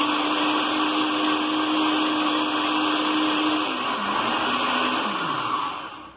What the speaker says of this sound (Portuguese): Eu vou bater, pessoal, mas eu vou bater bem agora.